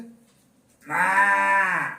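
A child produces one long, sustained vocal call that imitates a cow's moo. It is loud and close, with no other talking.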